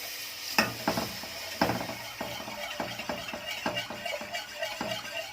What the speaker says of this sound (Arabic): نقلب كويس بقى عشان طبعا مبقاش فيها اي كلكعه